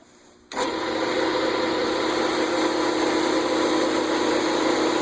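A woodturning buffing wheel spins up with a sudden start, then keeps up a steady, loud motor hum and whir while it is charged with wax.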